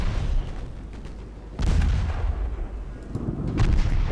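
Torpedoes launched from quintuple launchers aboard a 1926-era warship in a naval combat game, heard as a dull boom followed by a second heavier thump over rumbling battle noise, loud and close.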